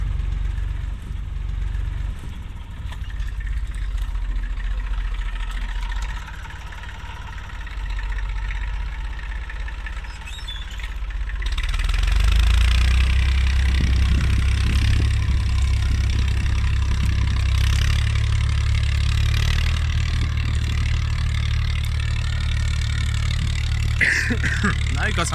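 A tractor pulling a plough across a field rumbles steadily, its low engine drone swelling louder and nearer about halfway through and staying strong to the end.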